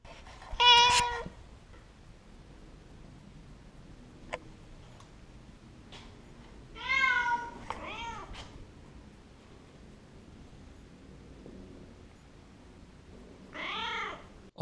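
A cat named Meowford lets out three separate meows several seconds apart, heard close up inside a 2002 A-Liner camper, with faint ticks and quiet background between them.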